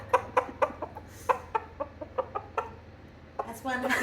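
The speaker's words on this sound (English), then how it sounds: "That's one happy little clucker there." A chicken clucks repeatedly in short, evenly spaced bursts, fairly close, with a louder flurry of squawking near the end and a low background hum.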